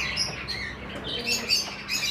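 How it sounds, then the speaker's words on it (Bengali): In a Medinipur bird and aquarium shop holding about 80 pigeons, caged birds chirp and tweet in short, bright bursts close by, with faint rustling and cooing underneath. "দেখছো এখানে 80 পিস টোটাল পায়রা আছে।"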